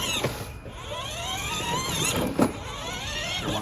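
A U.S. General electric motorized steel two-shelf tool cart runs at its fast speed with a whining electric motor whose pitch rises and falls. Wheels squeal and scrape on the floor, and there is one brief knock.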